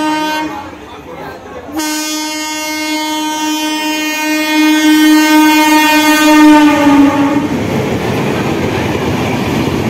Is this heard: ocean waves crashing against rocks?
no